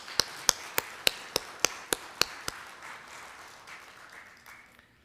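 Clapping from a church congregation at a Korean Methodist memorial service: about nine sharp, evenly spaced claps in a steady rhythm, then a fading, reverberant hall.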